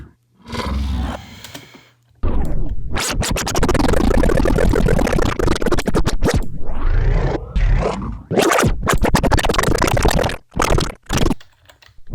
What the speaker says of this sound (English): I'm just going to use a bass sample, I think.